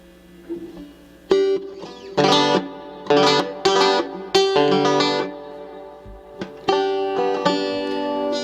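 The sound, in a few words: banjo played through reverb effect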